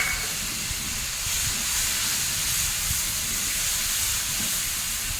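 A loud, steady hiss of tomato puree sizzling in hot oil, continuous and close, with no talking.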